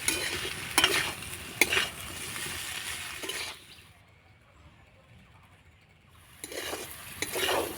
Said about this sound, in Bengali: এবার সব কিছু আমি আলুটার সঙ্গে মশলাটা ভালো করে কষিয়ে নেব